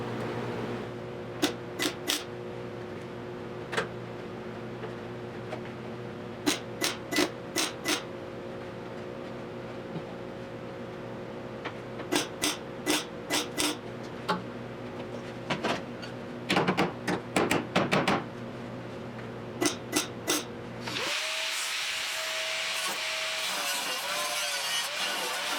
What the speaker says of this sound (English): First I'm gonna weld the bottom